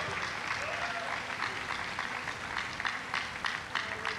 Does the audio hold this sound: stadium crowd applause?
yes